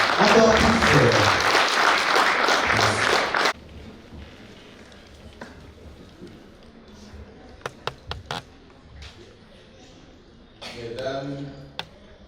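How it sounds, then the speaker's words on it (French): Loud, dense applause from a crowd at a university diploma graduation ceremony fills the first few seconds, then drops away, leaving scattered claps and taps, with a brief swell of voices and clapping near the end. "Applaudissez-le encore plus fort, s'il vous plaît."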